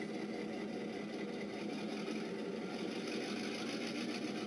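Electronic diesel locomotive engine sound from a Kato sound box on an N scale model railway, a steady droning hum revving up while the model sits still, continuous and fairly loud with no voices.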